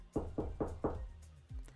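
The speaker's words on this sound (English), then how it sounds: "I knock on what is, hopefully his door." Four evenly spaced knocks on a door in a video game, close and fairly soft, followed by a short low thud near the end.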